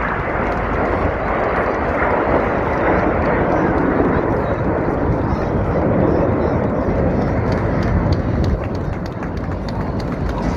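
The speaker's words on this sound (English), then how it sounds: "Reds 4 and 5 smoke red and blue respectively, with Reds 5 Lieutenant Dave Simmons Simo." Red Arrows jets fly an air display at Scarborough Armed Forces Day, a continuous loud broadband roar with an announcer talking over it throughout.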